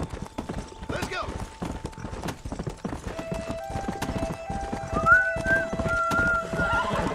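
Horse hooves clip-clop at a steady riding rhythm in the Red Dead Redemption video game, with a brief whinny partway through, while game speech and ambient sound carry on underneath.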